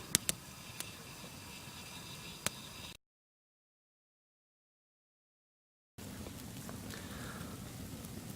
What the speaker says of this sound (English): I started sprinkling, rain setting in a little bit